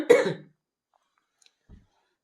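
A single short, harsh cough up close from someone with a viral fever, followed by near silence with a faint small sound near the end.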